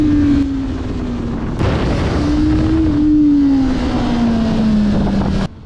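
A Honda CB500F or CBR500R motorcycle engine held at high revs, a loud steady drone with a slowly shifting pitch, close and alone over wind rush.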